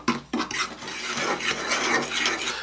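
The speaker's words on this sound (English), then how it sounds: "we're just going to fluff these together, whisk them all together so that it's even" Sugar and cinnamon whisked together in a shallow bowl, a continuous close scraping and rustling of the whisk against the bowl with a couple of sharp knocks at the start, no talking.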